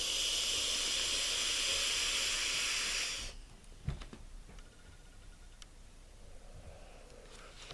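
A Sigelei Elite Tank 2 vape draws with a loud steady hiss of vapor for about three seconds, then cuts off to quiet room noise with a soft thump and faint clicks.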